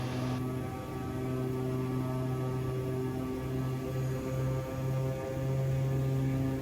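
Inside a Cessna Conquest, the turboprop engines run at takeoff power as a steady, droning hum with layered tones that hold for several seconds, with no voices.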